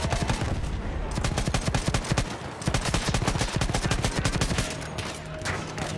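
Dense gunfire in a World War I battle from the Battlefield 1 campaign, rapid machine-gun bursts and rifle shots cracking nearly nonstop at close range, loud and sustained across the whole stretch.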